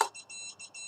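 An FPV racing drone, the Hornet, gives a high electronic beeping outdoors in strong wind: four short tones in a steady pulse, fairly loud and near, with no talk.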